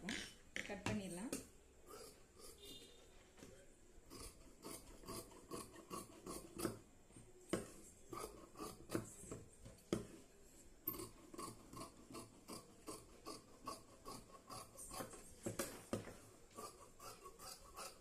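Scissors cut through blouse fabric in a steady run of close, rhythmic rasping snips that continue throughout, with a voice speaking over them.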